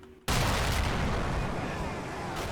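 An artillery shell explodes in the wargame Combat Mission: BAOR '79, with a sudden loud blast and then a long rumbling roar that fades slowly.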